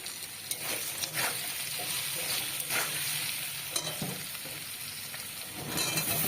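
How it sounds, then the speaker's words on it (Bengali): Potato pieces sizzle in hot oil in a pan for a tilapia and okra dish as salt and turmeric go in, with repeated scraping strokes of a spatula over a steady, moderate crackle. "লালচে করে ভাজার পরে এখানে আমি নুন হলুদ দিয়ে আর একটু নেড়ে নেব"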